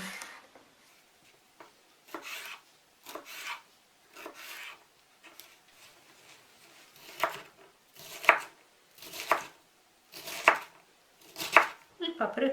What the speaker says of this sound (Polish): Paprykę tak samo jak seler naciowy pokroję w drobną kostkę.